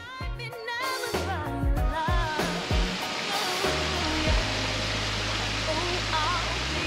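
A waterfall on the sandy beach of an RV park in Borrego makes a steady broadband rush. A person talks over it at first, then the rushing water continues on its own.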